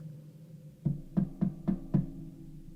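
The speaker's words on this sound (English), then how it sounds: "A moment passed, then a light knock." A light knock on a door: five soft, evenly spaced raps over a faint low room hum, close and quiet, with no voices.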